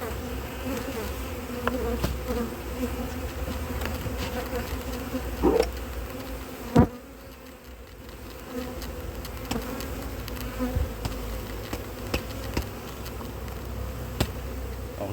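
Honey bees from hive frames shaken one by one onto grass, filling the air with a steady, dense buzz of many insects close by, with a few brief thumps and knocks over the continuous drone.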